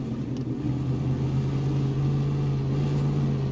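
A heavy Voron truck engine in Snowrunner idles and revs with a deep, steady rumble and a strong low hum that holds at an even level throughout, with no talking.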